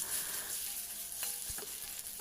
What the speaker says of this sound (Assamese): এতিয়া সেইখিনি তেলতে দিছোঁ আলুকেইডোখৰ